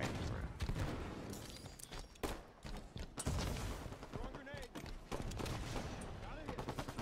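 Rapid gunfire from Halo 5: Guardians Slayer multiplayer, dense bursts of shots and impacts running almost continuously, with a voice talking over the action.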